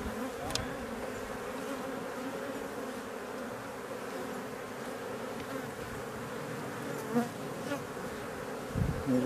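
Honey bees buzz steadily and closely around an open hive as its frames, including a new wax foundation frame, are inspected in April, a dense continuous hum with a few louder passes.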